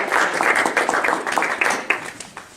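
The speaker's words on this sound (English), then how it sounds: "please give a big round of applause for" A Toastmasters youth open house audience applauds as a speaker is introduced, a moderate, fairly soft patter of clapping hands with distinct individual claps, fading toward the end.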